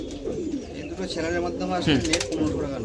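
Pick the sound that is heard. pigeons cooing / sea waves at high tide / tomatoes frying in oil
pigeons cooing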